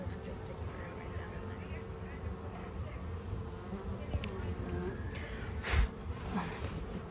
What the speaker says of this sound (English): This bee's gonna stick.